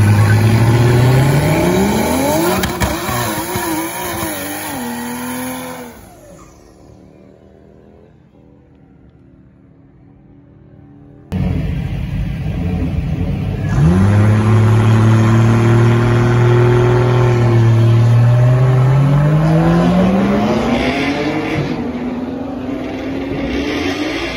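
A Toyota A90 Supra making 700 wheel horsepower launches down a track, its engine revving hard and climbing through the gears in loud, rising sweeps, then briefly dropping away before a second strong pull.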